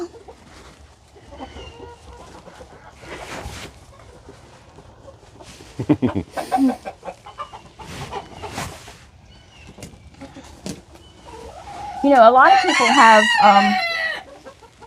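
Chickens in a coop clucking and crowing, with scattered clucks through the middle and a loud rooster crow near the end, while a person talks intermittently nearby.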